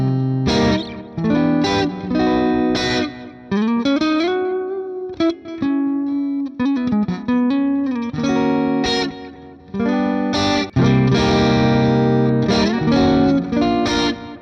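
A heavily pushed, distorted electric guitar plays through a Mesa Boogie Mark II C+ amp simulation in Amplitube 5, with choppy riffs, sustained notes and abrupt stops and restarts, loud and alone.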